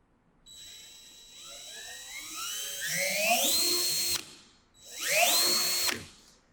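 An electric drill with a variable-speed trigger runs up in pitch as the trigger is squeezed, stops abruptly, then spins up again in a second shorter burst, loud and close.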